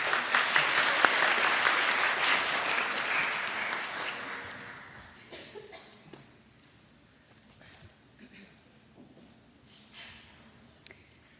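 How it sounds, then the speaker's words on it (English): Audience applause at a school awards ceremony, a loud sustained burst that tapers off after about five seconds into a few scattered claps and faint room noise. "I ask you to hold your applause to the end"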